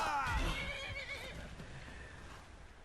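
A Skyrim horse gives a loud whinny near the start that trails off into quieter game ambience, with a few soft hoofbeats in the background.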